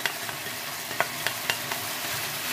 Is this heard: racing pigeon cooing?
no